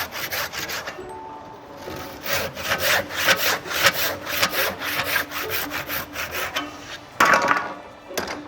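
A handsaw rips down a timber tenon toward the shoulder in traditional timber-frame joinery. Steady, rhythmic push-pull strokes sound close and loud with no talk, and a brief pause comes before a final flurry.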